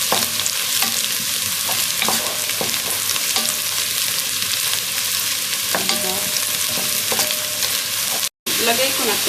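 Fried rice browns in a hot pan, giving a close, continuous sizzle with repeated scrapes and clinks of a spatula stirring it, briefly cut off near the end.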